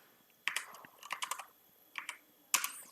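Fingers type on a computer keyboard while entering numbers into a spreadsheet and pressing Enter. Close, crisp keystrokes come in several quick clustered bursts separated by short pauses, with no talking.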